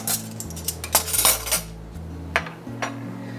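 Metal spoon scooping refried beans onto chicken enchiladas, with several bright clinks and scrapes against the dish over a faint steady tonal hum.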